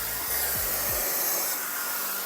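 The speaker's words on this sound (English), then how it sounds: "we just turn off the vacuum, we could turn off the steam, just like that" A Neakasa Magic 1 portable vacuum garment steamer runs with a steady, loud whooshing airflow, and a few low thumps and whirs sound as settings change.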